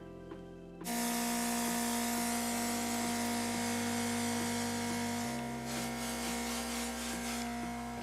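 A steady, continuous hiss of an airbrush spraying liquid makeup onto a face runs for several seconds over a constant mechanical hum; no speech.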